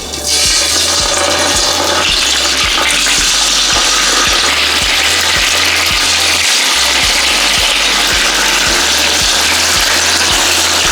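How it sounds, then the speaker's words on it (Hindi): Mutton chops fry in hot ghee, a loud, dense, continuous sizzle close up, with faint rhythmic low thumps repeating underneath. "अब हम इसमें चम्पे डालेंगे फ्राई के लिए।"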